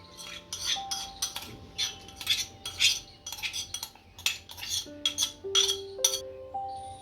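Whole dry coriander seeds and fennel being pounded for methi poha vada, heard as a close run of about a dozen rhythmic metallic clinking strikes with no talking.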